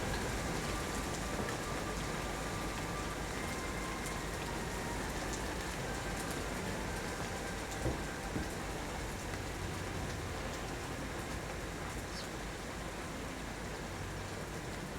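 Steady rain falls throughout, a soft, even hiss of drops on a surface, constant and fairly quiet with no talk over it.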